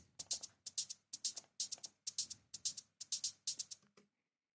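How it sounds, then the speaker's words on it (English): Shaker samples in a steady rhythmic pattern, about a dozen bright, hissy shakes in pairs, crisp and close, ending with a short tail. "These are the shakers."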